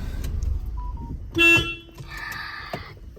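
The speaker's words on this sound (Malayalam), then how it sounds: "ഹോണടിക്കൂ" A car horn sounds in a short burst amid a few scattered outdoor noises, fairly close, with a brief stretch of mixed tonal sound near the end.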